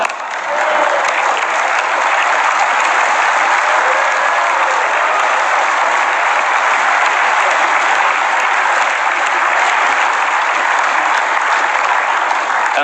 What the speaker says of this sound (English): That's the last time you are applauding here.